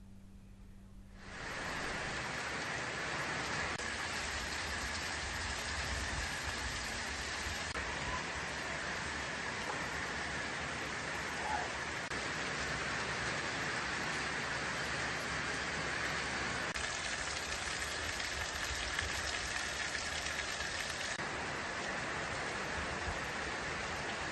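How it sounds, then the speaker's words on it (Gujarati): Heavy night-time downpour over rural villages of Modasa taluka, Aravalli district, Gujarat, heard as a dense, unbroken hiss that starts abruptly and holds steady throughout, with no voices. "મોડી રાત્રે જિલ્લાના મોડાસા તાલુકાના અલગ અલગ ગ્રામ્ય વિસ્તારોમાં ધોધમાર વરસાદ વરસ્યો હતો"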